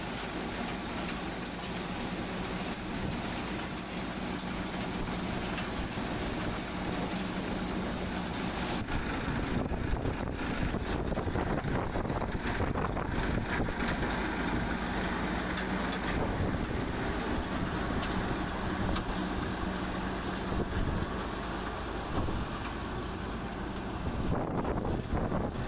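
A tractor engine drones steadily outdoors during cumin threshing near a dam, a continuous low rumble mixed with wind noise buffeting the microphone, with no talk over it.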